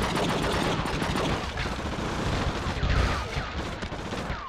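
Gunfire in the video game True Crime: Streets of LA, a dense, loud, continuous barrage of rapid automatic shots and blasts that fills the whole stretch without a break.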